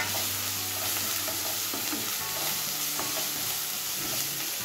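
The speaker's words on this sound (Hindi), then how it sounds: "चलिए हम इसको मिक्स करते हैं।" A spoon stirs spice masala, including Kashmiri red chilli powder, into cowpea sabji in a pan, with a steady low sizzle of frying under soft, continuous scraping and mixing strokes, close by and alone without talk.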